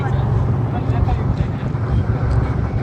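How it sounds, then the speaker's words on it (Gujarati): Loud, continuous wind buffets the microphone on a ro-ro ferry deck with a deep, rumbling roar, blended with the low drone of the moving ferry. "એટલો મસ્ત પવન આવે છે"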